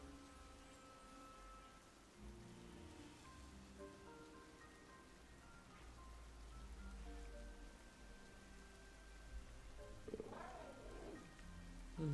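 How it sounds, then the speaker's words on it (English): Steady rain falling in a Pokémon Scarlet Indigo Disk game scene, a soft continuous patter that runs the whole stretch beneath background game music, with a brief brighter sweep near the end. "A nice bit of rain."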